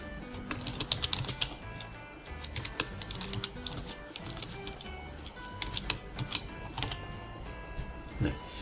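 Typing a project name on a computer keyboard while setting up GNS3 network software, a close series of quick key clicks in uneven bursts with someone talking over them.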